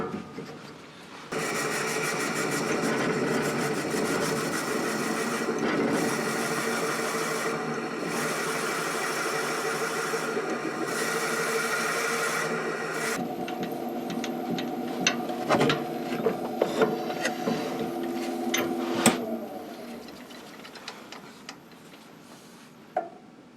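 A Forstner bit bores into very hard lignum vitae wood, first a loud sustained motor drone with steady cutting, then stopping and giving way to ticking, knocking handling sounds.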